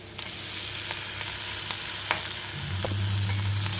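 Ginger and green chilli paste is stirred into a frying plantain curry, a sizzling pan with a few soft scrape clicks and a low hum building near the end.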